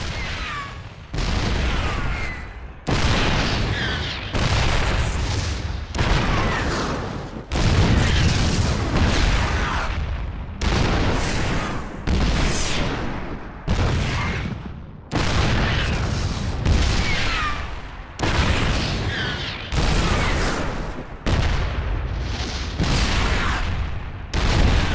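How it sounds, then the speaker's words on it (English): Siege tanks in StarCraft 2 shell Protoss cannons, a long run of loud booming artillery blasts roughly every one to two seconds, each with a short roaring decay, heavy and continuous with no talk. "These babies will knock those cannons down from a nice, safe distance."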